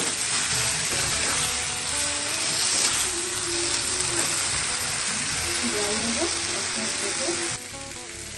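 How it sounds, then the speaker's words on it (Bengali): Potol frying in a pan, with water poured in partway through. It gives a steady, dense sizzle throughout that softens slightly near the end, and there are faint voices underneath. "জল দিয়ে দিচ্ছি"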